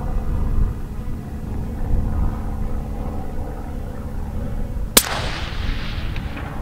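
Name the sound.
rifle gunshot at 300 yard range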